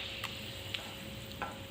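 Whole spices fry in hot oil in a kadai for veg pulao, a quiet steady sizzle with a few light ticks and clinks, close by and without talking.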